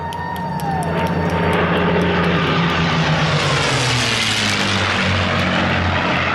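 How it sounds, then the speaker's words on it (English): P-51 Mustang fighter planes fly overhead, a loud sustained piston-propeller roar that swells and carries on steadily, close and with no talk over it. "Here they come. P-51 Mustangs."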